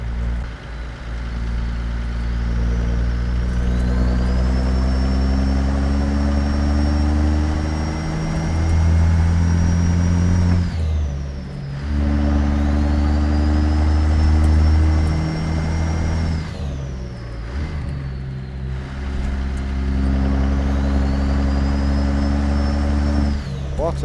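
Loud, steady truck engine drone in American Truck Simulator, rising and falling in pitch through gear changes across the run, with a person talking over it.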